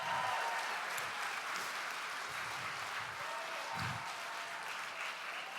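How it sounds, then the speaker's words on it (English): Sustained applause from a room full of people at a charity celebration event, steady dense clapping held at an even level throughout with no voices over it. "I want to hear a roaring round of applause for everyone in this room."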